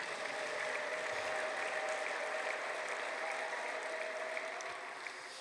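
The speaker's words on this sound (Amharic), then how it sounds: "ደስ ይበላችሁ፣ አጨብጭቡ።" A church congregation claps steadily together in a dense, continuous burst of applause, fairly distant and even throughout, with no voices standing out.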